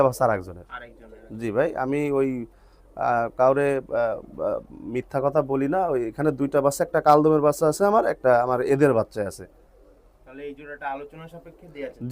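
Two kaldom pigeons coo indoors in a room, giving repeated close, throaty rolling calls in bursts with short pauses between them, loud and clear, and no talk over them.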